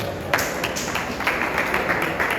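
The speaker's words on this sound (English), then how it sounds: "Can we give Mr. James a round of applause" An audience at a cybersecurity conference in Nigeria claps for a speaker, a dense continuous patter of hands at a steady level throughout the short stretch.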